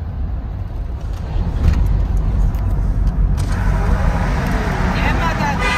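A car cruises at speed on the Jammu–Katra highway and enters a tunnel, a steady loud road and engine roar that swells and takes on a hollow, reverberant wash, with voices talking over it.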